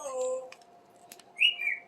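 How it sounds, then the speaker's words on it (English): A talkative parrot gives a few short chirps and whistled calls at close range, with a brief rising squeak near the end, in a quiet indoor room. "Oh, the bird says hi."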